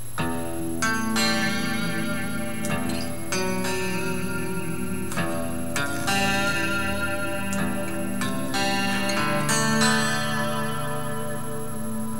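Clean electric guitar plays the picked, ringing intro phrase of a song with distinct notes and sustained tones, steady and close, no voices.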